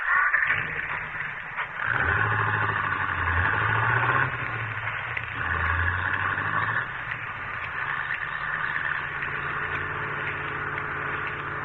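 A car engine rumbles low and muffled, revving up in a few rising swells before settling into a steady hum. Faint hiss sits underneath throughout.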